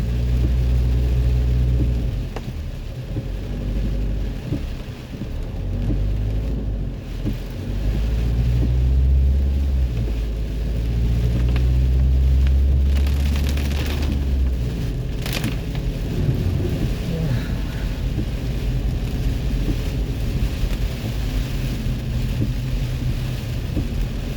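Strong wind and rain sweep through Baguio City, a continuous low roaring rumble with rushing noise that surges and eases over about twenty seconds, no voices.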